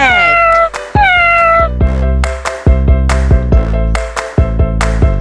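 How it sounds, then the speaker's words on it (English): A cat meows several times in a row, loud and close, each call drawn out and wavering, with a short pause between calls and no voices. "This is cat."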